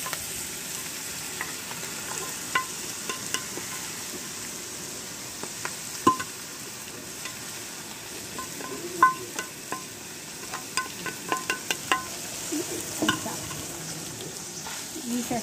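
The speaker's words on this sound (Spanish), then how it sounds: "Se está cocinando el chorizo, ya que se está cocinando. Se lo va echando la carnita." Chorizo and shredded pork frying together in a pan, a soft continuous sizzle broken by frequent scraping and clicking of a utensil as the meat is stirred, close by with no talking.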